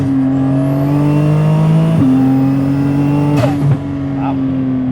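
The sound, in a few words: Porsche Cayman GT2RS 650 hp car accelerating while driving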